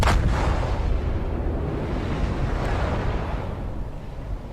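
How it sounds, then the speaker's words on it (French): Torpedo hits exploding on a ship in a naval video game featuring US destroyers, heard as a loud booming blast at the start followed by a long rumbling roar that stays dense and heavy throughout. "Boum, et boum. 2 torpilles au but."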